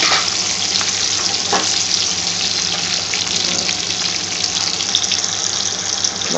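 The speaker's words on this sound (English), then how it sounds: "As you can see, the oil is boiling," Garlic sizzles in boiling oil in a frying pan for an Indian potato bhaji, a loud, continuous crackling fry close up, with faint stirring and no talk.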